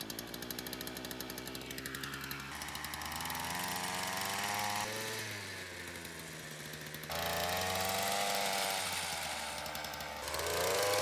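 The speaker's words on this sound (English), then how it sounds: "Now the trimmer works again." A petrol hedge trimmer with a freshly repaired choke runs steadily nearby, its small two-stroke engine droning and rising and falling in pitch as the throttle is worked, with no voices over it.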